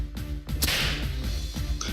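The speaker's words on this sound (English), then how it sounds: "It's the sound of a whip breaking the sound barrier." A single sharp whip crack breaking the sound barrier in the visual novel game Princess Waltz, a sudden loud snap followed by a brief swishing tail, heard alone.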